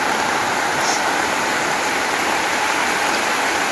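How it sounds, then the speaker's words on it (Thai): Heavy rainwater flooding and rushing in front of a house after a downpour, a loud, dense, continuous wash of flowing water with no break. "ไหลลงเลย ทางน้ำท่วมบ้านมันเฮ้ย น้ำท่วมแล้ว"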